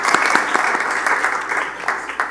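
Scattered audience claps during a lecture on the role of Mobeds at a Zoroastrian youth congress, irregular and moderately close, without speech.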